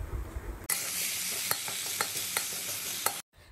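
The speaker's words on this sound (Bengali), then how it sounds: "আলুগুলো কিন্তু একটু ভালো করে ভাজতে হবে" Potatoes sizzling in oil for a rohu fish and potato curry: a loud frying hiss bursts in suddenly and holds steady, with a spatula scraping and tapping the pan at a regular pace, then cuts off sharply at the end.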